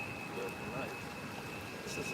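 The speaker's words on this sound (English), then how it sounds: "We're actually getting some rain today." Light rain falls in a tropical setting in Puerto Rico, a faint continuous patter under a thin steady electrical tone with no clear voices.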